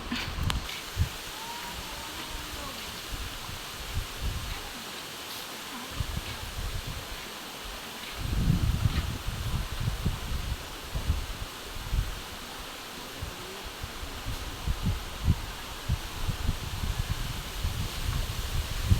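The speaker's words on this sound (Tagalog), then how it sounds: "Maginhaba po dito, malakas ang hangin." Steady broadband wind roars across the microphone for the whole stretch, with gusts swelling and easing and a faint rustle underneath; no one speaks.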